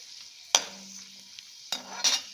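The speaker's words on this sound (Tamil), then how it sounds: "இது வறுபட்டுருது." Cashews and raisins frying in a pan, with a soft sizzle and two distinct scraping stirs of a spoon against the pan, close by and with no voices.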